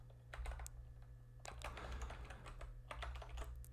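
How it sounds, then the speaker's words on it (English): Quiet computer keyboard typing in short bursts of quick clicks, with a brief pause partway through, close and alone over a low hum. "And I'm going to start typing an address."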